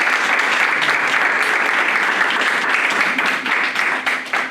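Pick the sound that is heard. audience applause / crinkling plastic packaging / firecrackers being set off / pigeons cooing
audience applause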